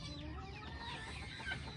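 Chickens clucking softly amid a low farmyard murmur, a few scattered calls without talking.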